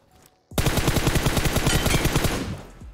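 Rapid automatic gunfire in PUBG Mobile erupts after a brief quiet moment, a loud sustained burst of evenly spaced shots that tails off near the end.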